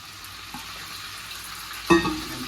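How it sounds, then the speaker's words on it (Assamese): Chicken pieces dropping into a hot pan of browned onions over a medium gas flame, a steady low frying hiss with a sudden louder sizzle and clatter near the end as the meat lands. "তো ইয়াৰ ওপৰত মই চিকেনখিনি দি দিম।"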